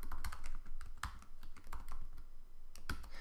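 Typing on a computer keyboard while entering Python class code: quick, irregular clusters of close, crisp key clicks with short pauses between bursts and no talking.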